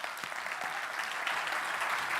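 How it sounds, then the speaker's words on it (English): Steady, dense applause from a crowd at an insurtech summit awards ceremony for the finalists, sustained and even throughout without pause. "let's put our hands together for a big round of applause for all the finalists"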